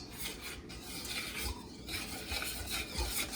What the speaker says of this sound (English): Now we're going to whisk well to combine